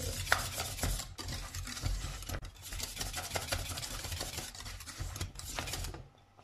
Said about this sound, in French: Vous remettez 30 secondes sur le feu, vous mélangez.